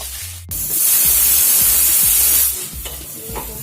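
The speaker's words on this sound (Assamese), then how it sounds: "ইয়াত এতিয়া অলপ নিমখ দি ভাজি ল'ম" Tomatoes with salt sizzle loudly in a hot pan, a strong hissing burst that settles as the pan is stirred, with rhythmic low thumps and scrapes from the stirring.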